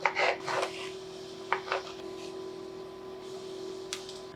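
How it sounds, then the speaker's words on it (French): A large tomato is chopped roughly with a knife on a board, giving a few short scraping, rubbing cuts near the start and again around mid-clip, then quieter handling over a steady background hum. "je vais venir découper une tomate qui me restait"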